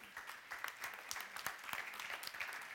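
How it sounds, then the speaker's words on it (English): Audience applause at an international food and nutrition forum in Brussels, a modest, fairly quiet patter of individual claps heard from a distance, with no voices over it. "So give them all a round of applause."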